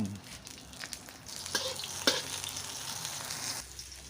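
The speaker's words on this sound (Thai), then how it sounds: "เรามาผัดกันเลยนะครับ น้ำมันพืช กระเทียม" Pork and garlic stir-fried in hot vegetable oil, a steady close sizzle with a few spatula scrapes and clacks against the pan, no talking.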